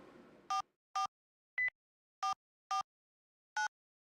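Six short electronic phone keypad tones from the video game Saya no Uta sound at uneven intervals after a brief burst of noise. Each beep is clean and isolated against silence, with varying pitches.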